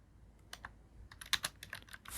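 Quiet, quick keystrokes on a computer keyboard as Python code is typed, an irregular run of light clicks close by without any speech.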